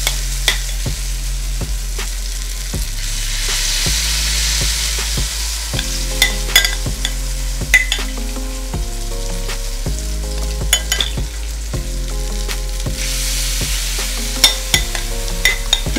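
Homemade hash brown mixture fries in a pan with a continuous loud sizzle, broken by repeated scraping and stirring taps of a spoon or utensil against the pan, close up and without voices.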